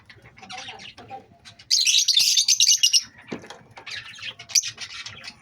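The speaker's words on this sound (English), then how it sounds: "These my lovebirds, different color of lovebirds." Pet lovebirds in a home aviary, giving sharp, bright chirps and squawks in bursts, with a loud dense flurry in the middle and scattered tweets around it, close by and with no talking.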